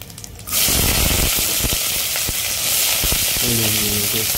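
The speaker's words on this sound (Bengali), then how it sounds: "লো ফ্লেমে এগুলোকে একটু ভালো করে ফ্রাই করে নেব" Whole spices and cumin seeds dropped into hot oil over a low flame for a Bengali chicken curry, a sudden loud burst of sizzling that settles into steady close frying with occasional clinks and scrapes.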